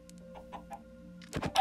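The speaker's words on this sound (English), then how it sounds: "Okay, little chickens." Minecraft chickens give a few short clucks near the end, close and fairly loud, after a quiet stretch with faint game ambience and soft clicks.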